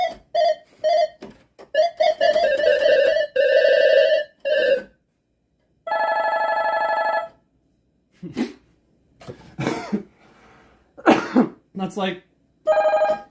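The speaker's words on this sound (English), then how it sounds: "I think your phone's ringing." Electronic telephone ring sounding in repeated tonal bursts, interrupted by people talking and bits of noise, with the rings fairly loud and close.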